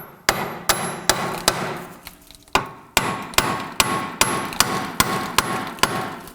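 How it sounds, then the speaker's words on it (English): A hammer strikes a wheel hub on a 2005-2009 Subaru Legacy rear axle to free it, delivering about a dozen loud, close metallic blows in a fairly steady rhythm with a brief pause early on. "I'm going to go ahead and use my hammer, and I'm going to go ahead and bonk on the wheel hub itself"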